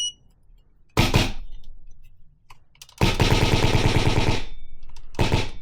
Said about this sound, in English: I just do a couple dry fire shots